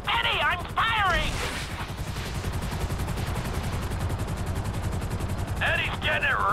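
Rapid, continuous gunfire rattling loudly and close, with shouting voices cutting in at the start and end.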